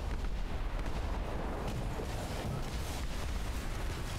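Cannon fire in the Airship: Kingdoms Adrift video game, a dense rolling barrage of booming shots layered continuously over one another, loud and steady without pause.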